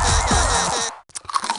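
A crunching sound effect from the You Don't Know Jack Headrush video game: a loud, close, gritty crunch lasting nearly a second, a brief pause, then a few smaller crackly crunches.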